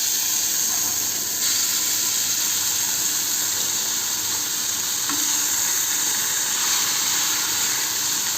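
Papaya pieces fry in hot oil for papaya chutney, making a loud, continuous close-up sizzle and hiss with occasional stirring, no voices.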